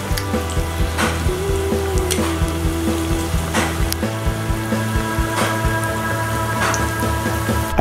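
Banana flower vadas deep-frying over a low flame, a steady crackling sizzle of oil with scattered pops running throughout, close and continuous with no voices.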